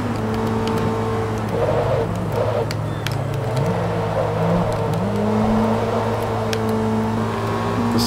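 A 2003 Toyota APR Performance Celica GTS race car in a racing game, its engine droning steadily with rising and falling pitch as it accelerates through shifts, loud and continuous throughout.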